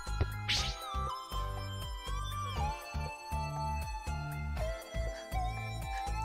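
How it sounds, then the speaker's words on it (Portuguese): Meowing from a cat girl character in a video game, short high cries over steady looping game music and chimes, with no talking. "Miando e ronronando."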